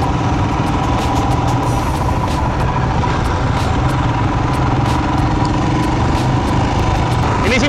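Royal Enfield Himalayan 2020 with its 400cc engine, heard while riding: a steady, loud engine drone with continuous rumble and wind throughout, no talk.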